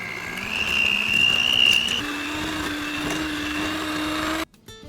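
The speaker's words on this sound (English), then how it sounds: "we're gonna beat our butter until it's nice and creamy" An electric mixer beats butter in a bowl for oatmeal cookies with a steady, close whirring drone that shifts pitch midway and then cuts off abruptly near the end.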